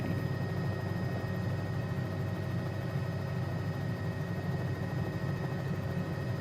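An EMS helicopter nearing a helipad, heard as a steady, dense rotor and engine roar with a constant whine, loud and unbroken throughout, with no voices.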